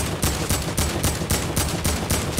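Rapid automatic gunfire in Fortnite, a fast steady burst of shots repeating at an even rhythm, loud and close, with no talking.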